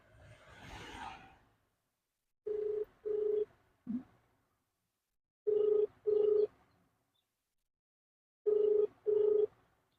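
A phone rings back during an outgoing call, with paired ring-tone bursts repeating in a steady rhythm and long silent gaps between them, after a short rustle at the start.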